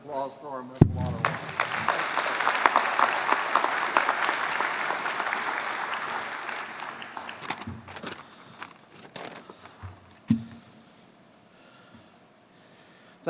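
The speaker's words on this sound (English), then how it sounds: "How about one more round of applause for our Medal of Honor?" An evening veterans awards ceremony crowd applauds a Medal of Honor recipient, a loud, sustained wash of clapping that swells after a sharp knock, then fades over several seconds into a quiet room with scattered thumps.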